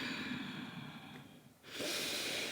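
A single soft exhale, followed by a brief pause and then a louder, breathy rush of air as someone folds forward in a mellow yoga flow, close and with no talk.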